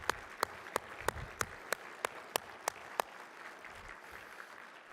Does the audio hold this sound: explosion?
no